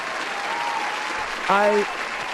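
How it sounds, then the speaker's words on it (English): Steady applause from a live community stream audience at an anime convention recap, an even hiss of clapping throughout with a brief spoken word rising over it midway. "I do want to thank you for your applause, Mehgan."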